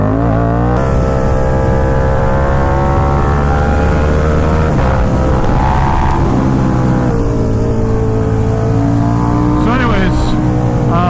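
A KTM Super Duke motorcycle engine revs loudly and close, its pitch climbing and falling through the gears. Someone talks continuously over the roar.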